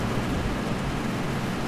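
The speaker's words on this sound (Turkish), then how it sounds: "Yağmur bitecek mi?" Steady, dense rain hiss in the driving game 18 Wheels of Steel: Haulin, a constant wash of noise without pause and no one talking.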